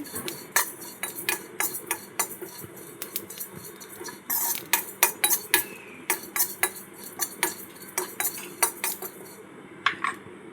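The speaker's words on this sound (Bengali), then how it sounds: "গোটা জিরে শুকনো খোলায় ভেজে নিচ্ছি।" Whole cumin seeds dry-roasting in a dry pan: sharp metallic clinks and taps from stirring come in an irregular rapid series over a soft, quiet background hiss, with no talking.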